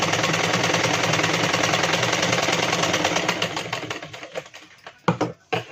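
Sewing machine stitching a blouse seam along the shoulder edge, a continuous motor hum that breaks into uneven stop-start pulses toward the end, near and fairly loud without speech.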